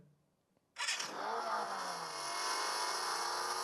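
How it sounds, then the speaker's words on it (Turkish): A car engine start and revving sound effect plays from a Red Magic 9S Pro gaming phone widget: quiet at first, then a sudden ignition burst settling into a sustained, loud revving roar. "böyle bir araba çalıştırma veya araba gazlama sesiyle açılıyor"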